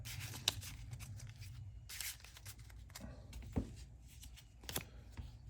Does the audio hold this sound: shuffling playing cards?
yes